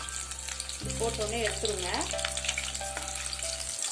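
Crushed, unpeeled garlic cloves fry in oil for a Tamil potato mixture, giving a steady, close sizzle over a low humming tone while a person talks briefly.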